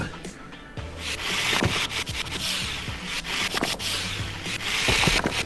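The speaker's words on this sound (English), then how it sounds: "Let's go back with our drill." A dental drill grinding on teeth in the VR game Titans Clinic, heard as irregular scraping and rubbing bursts that swell and fade, with short sharp contacts scattered throughout and no speech.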